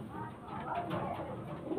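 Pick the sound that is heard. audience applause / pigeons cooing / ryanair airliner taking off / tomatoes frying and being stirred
pigeons cooing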